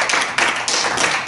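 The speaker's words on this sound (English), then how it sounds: "Let's give the Lord a good hand clap of praise for that." A church congregation claps hands in praise during a Sunday service, a dense burst of many hands slapping together with rhythmic surges, loud and close, with no voices over it.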